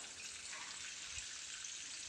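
Water is released into drip irrigation lines in a vineyard, a faint, steady hiss of flow with a soft low thump midway.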